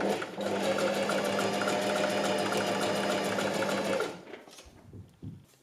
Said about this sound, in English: So that's our elastic sewn on around the waist.